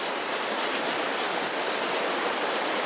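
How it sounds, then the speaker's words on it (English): A stick scrapes food chunks off a cast iron pan over a campfire in steady, continuous rubbing strokes, close and fairly loud with a coarse gritty texture. "I used a stick just to scrape all the big chunks off"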